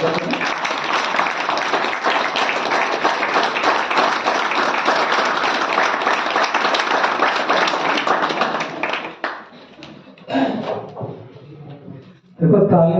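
An audience at a BJP political meeting claps in a dense, sustained burst of applause that fades out near the end, followed by a few scattered claps and a final swell.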